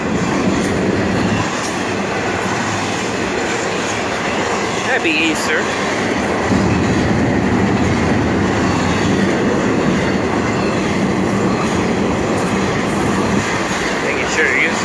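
Florida East Coast freight train 222, a long multi-axle freight, rolls steadily past at close range with continuous rumbling wheels and rail clatter, a short spoken greeting heard over it.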